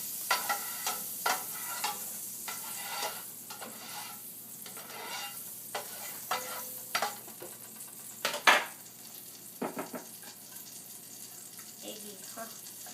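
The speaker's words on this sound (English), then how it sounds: "put butter around the pan." Butter sizzling in a frying pan while French toast is being made, a steady soft hiss broken by repeated scraping and tapping clicks from a spatula, with one louder clatter midway; no talking.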